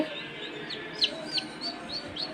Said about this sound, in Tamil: வெற்றிகரமாக ஒரு கோழி குஞ்சு வச்சிருக்கு.